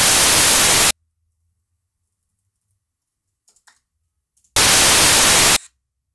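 Two bursts of broadband noise, each about a second long and separated by near silence: the first bright and hissy as an unprocessed signal, the second a low-pass filtered version, with faint clicks of typing in the gap between.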